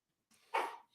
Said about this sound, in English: Sorry, you hear my dog barking.